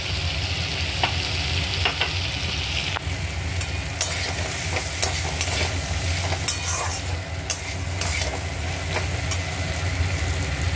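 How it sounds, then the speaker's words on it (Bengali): Pre-fried potatoes are stirred into a capsicum curry in a pan, giving a continuous close frying sizzle with repeated scraping and clinking stirs over about ten seconds. "এবার আমি এর মধ্যে ভেজে রাখা আলুগুলো অ্যাড করে দেবো।"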